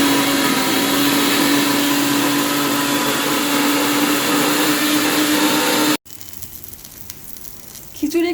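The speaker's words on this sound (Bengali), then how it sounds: "এবার মিক্সিতে পেস্ট করে নিচ্ছি ধনে জিরে, গোটা ধনে জিরে, কাঁচা লঙ্কা আর আদা" A mixer grinder blends whole coriander, cumin, green chilli and ginger into a paste, giving a loud, steady whirring grind for about six seconds before it cuts off abruptly, leaving quiet kitchen sounds.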